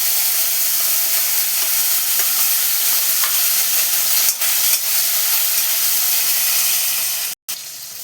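Chopped tomatoes frying with cinnamon, green cardamom, cloves and whole cumin in hot oil, making a loud, steady, close sizzle and hiss with a few faint stirring ticks and a brief break near the end.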